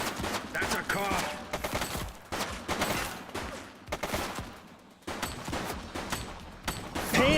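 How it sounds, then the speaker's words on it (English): Gunfire in the police video game The Precinct, repeated bursts of shots in irregular clusters, fairly loud, mixed with shouting voices. "He's shooting!"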